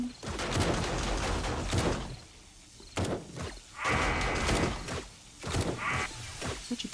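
Gunfire during horde night in the video game 7 Days To Die, bursts of shots and impacts in clustered volleys separated by short quieter gaps, fairly close and loud.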